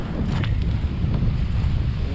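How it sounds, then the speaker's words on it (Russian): Strong wind roars across a small fishing boat at sea off Kildin Island in late May, buffeting the microphone with a continuous loud low rumble and no voices. "но ветер очень сильный"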